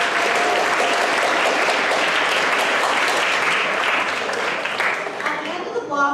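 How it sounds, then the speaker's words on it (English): An audience claps at a school spoken word poetry finals, loud sustained applause that holds evenly, then thins out as a voice begins speaking near the end. "Let's give them a round of applause for their creative eye"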